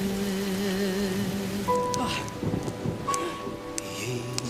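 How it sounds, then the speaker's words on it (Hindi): Rain with thunder in a Hindi feature film scene: a steady wash of rainfall with low thunder rumbles, overlaid by sustained musical tones. "जो बारिश है देखो ना, ये जो बारिश है"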